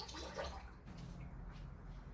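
Tap water runs steadily over an item being rinsed during household cleaning, a continuous close splashing wash with no talking, lasting about two seconds.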